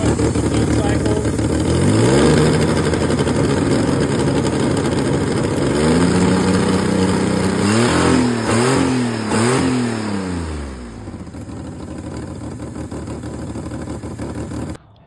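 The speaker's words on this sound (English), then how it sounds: "This fuel system on this one must be pretty rich, because she's running real rich. I'm just trying to let it warm up" An old Ford Ranger with a rich-running fuel system warms up, its engine loud and close, revving up and down in repeated swells before settling back toward a rougher idle.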